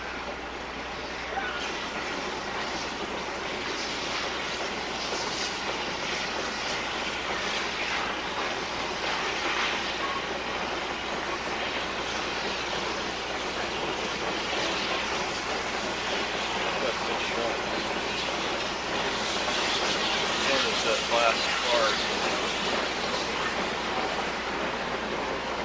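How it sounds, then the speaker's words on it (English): Close-up of a 2-8-2 steam locomotive at Kinzua, giving a steady, broad rushing rumble that holds at an even level with no clear pauses. "Here's a close-up of the locomotive."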